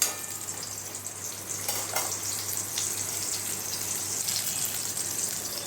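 Ash gourd fritters fry in hot oil with a steady, close sizzle and crackle that holds evenly throughout, with a few brief bubbling bursts and no talking.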